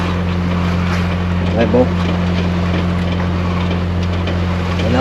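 A sailboat motoring at sea under engine power, a steady low drone with strong constant hum beneath wind and water noise, while a voice speaks briefly in the middle.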